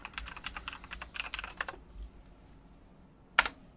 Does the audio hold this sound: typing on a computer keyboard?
yes